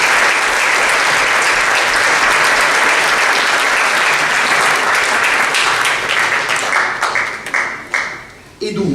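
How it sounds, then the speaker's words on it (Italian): A loud, dense round of crowd applause fills an award ceremony for a school prize category, sustained and close for most of the span before thinning into scattered claps and cutting off. "Un applauso a Terry Bonaldo."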